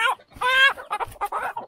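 A rooster close by gives a short series of clucks and a brief squawk in quick uneven bursts, with no other sound between them.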